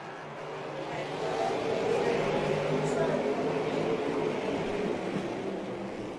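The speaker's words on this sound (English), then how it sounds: "The pace car peels off." NASCAR Pinty's Series stock cars roar at the start of the Canadian Tire 125 at Delaware as the pace car pulls away, a broad, distant wash of engine noise swelling and holding under a commentator's voice.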